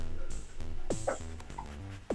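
A puppy in the video game Dropsy yips and whimpers in a few short, close, high-pitched bursts over quiet background music.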